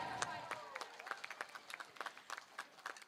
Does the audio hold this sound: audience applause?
yes